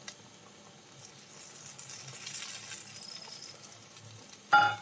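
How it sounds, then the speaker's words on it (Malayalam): Chicken perattu is stirred in a pan as it cooks down: faint, soft sizzling and light scraping throughout, ending in a brief louder clatter. "വീണ്ടും നന്നായിട്ടൊന്ന് മിക്സ് ചെയ്ത് കൊടുക്കാം."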